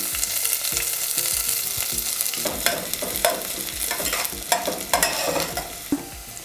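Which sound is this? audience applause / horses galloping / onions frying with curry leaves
onions frying with curry leaves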